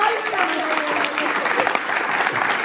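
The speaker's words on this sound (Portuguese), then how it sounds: "uma salva de palmas para eles" Brief burst of clapping from a crowd, continuous and lively for a few seconds.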